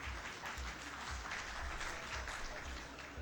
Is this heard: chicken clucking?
no